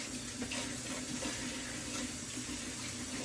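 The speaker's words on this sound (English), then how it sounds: "I'm washing my hands now" Steady running tap water pours continuously as hands are washed beneath it, a close, even hiss without breaks.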